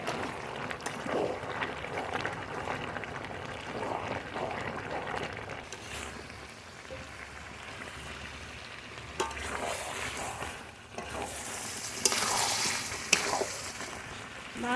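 Chicken curry simmers and sizzles in a pan while being stirred to cook off the water, a soft continuous frying hiss with occasional scraping and clinks of the spoon, fairly quiet.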